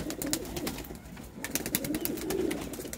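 Low, rolling coos come from a pedigree pigeon for sale in Ludhiana, heard up close in a soft, continuous murmur punctuated by sharp rustling clicks.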